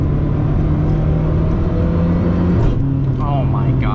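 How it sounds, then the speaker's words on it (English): A Zenvo hypercar, a heavy 3,300-pound road car, roars under hard acceleration with a loud continuous engine drone and a brutal gear change, heard from inside the cabin under a driver's talk. "there's just no way to explain how violent that gear change is"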